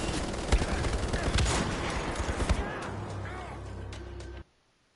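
Rapid bursts of gunfire from Wolfenstein: The Old Blood, sustained, loud and dense, with a player's talk underneath, cutting off abruptly near the end.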